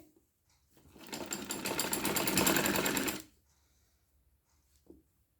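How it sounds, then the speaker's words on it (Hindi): A sewing machine stitches a palazzo trouser in one steady, loud run of about two seconds, its needle clatter rapid and even before stopping abruptly, followed by near silence and a small handling knock. "फोल्ड करने के बाद हमें यहाँ से सिलाई लगा देनी है, तो वो सिलाई मैं लगा देती हूँ"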